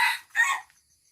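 Rooster crowing once nearby at a rural home garden in Thailand, a brief two-part call standing alone against quiet surroundings.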